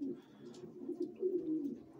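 Breeding pigeons coo softly and close by, a low continuous throaty warble with slight pulsing swells, alone without speech.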